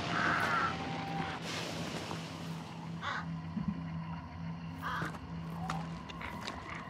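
Crows caw in a survival video game, a few harsh calls at the start over a steady low hum and ambient outdoor wind, with fainter bird cries scattered later and no talking.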